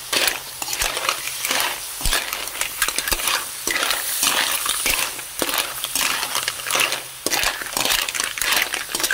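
Ingredients for tinola sauté in a pan, loud sizzling crackle with rhythmic scraping and clattering of a spatula stirring, close up and continuous.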